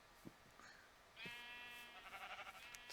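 Sheep in a Minecraft-style video game bleat several times, with short nasal cries overlapping in a quick cluster near the end, clear and close with no talking.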